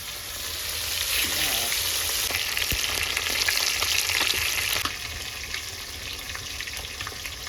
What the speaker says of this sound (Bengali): ঘিয়ে করলা ভাজা হবে